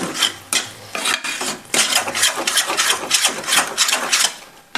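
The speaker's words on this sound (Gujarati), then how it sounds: "એક ચમચી ઘી મિક્સ કરી લેવાનું" A spoon stirs ghee into a grated corn dish in a pan, with rhythmic close scraping and rubbing strokes repeating steadily, loud and without talk.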